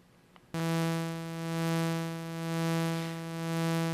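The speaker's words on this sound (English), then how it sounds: "For the tremolo effect, we want a nice, smooth, clean wobble." A steady synth tone in Massive pulses in a smooth, slow tremolo from a sine-wave LFO, its volume rising and falling evenly in a clean wobble until it cuts off.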